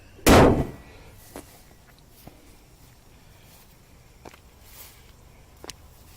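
One heavy thud of a 2017 Honda Civic Si hood slamming shut up close, followed by quiet ambience and a few faint clicks.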